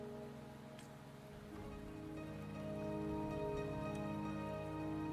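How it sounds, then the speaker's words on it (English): Rain falls steadily in the video game Wuthering Waves, a soft, even patter that swells a little over a backdrop of sustained musical tones, quiet and continuous with no voices. "The rain is subsiding, and the sky will soon clear."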